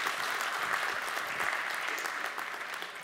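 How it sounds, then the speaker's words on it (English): A conference audience at a Unity developer session breaks into applause, a steady wash of many hands clapping that holds for a few seconds and slowly thins. "you can clap"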